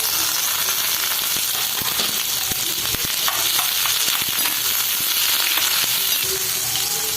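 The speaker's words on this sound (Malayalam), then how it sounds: "അപ്പോൾ ഇതിലേക്ക് സവാള, കട്ട് ചെയ്ത് വെച്ചിരിക്കുന്ന സവാള, പച്ചമുളക്, കറിവേപ്പില ഇത്രയും കൂടെ ഇട്ട് ഒന്ന് വഴറ്റാം." Onion, green chilli and curry leaves sauté in hot oil with mustard seeds for Kerala-style egg bhurji, a loud, dense, continuous sizzle close by, dotted with light crackles and stirring scrapes.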